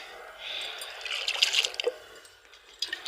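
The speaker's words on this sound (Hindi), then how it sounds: "आटे के हाथ भाई मेरी मैं धो लेती हूँ।" Hands coated in dough are rinsed under running water outdoors, with splashing, dripping and trickling sounds at close range.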